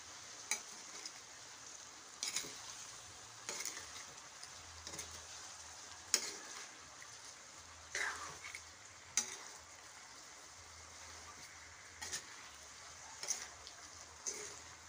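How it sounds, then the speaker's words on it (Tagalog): Garlic sautés in a pan for a fiesta dish, giving a quiet steady sizzle broken by regular sharp clicks and scrapes of stirring, with no talk. "Nag-gisa ko na yung ano, na-brown ko na yung garlic."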